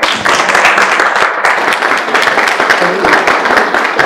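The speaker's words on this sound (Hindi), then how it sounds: "इनके लिए भरपूर तालियां" Loud, close applause from diners at a Christmas dinner held by a Christian journalists' association in Pakistan, honoring two guests with brisk, dense clapping that runs unbroken for about four seconds.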